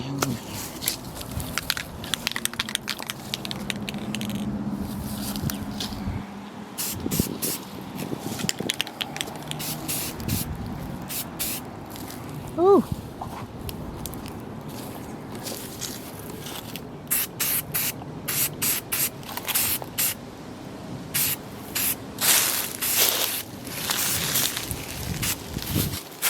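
Spray paint hisses in repeated bursts onto a Track Rat chassis during front-end cleanup and painting, the bursts alternating with short pauses and some handling noise.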